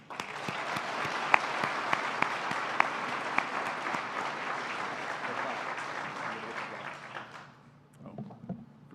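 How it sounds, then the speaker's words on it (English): Applause from the audience at a college awards program rings out, steady and full for several seconds with a few sharp individual claps standing out, then quickly dies away into a quiet room. "One final round of applause for Sister MT and Bob."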